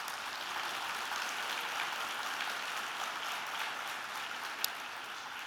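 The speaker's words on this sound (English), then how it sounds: "So will you give them a round of applause?" A conference audience at a network meeting applauds in a steady, even wash of many hands clapping, moderately soft and sustained throughout, with one sharp click near the end.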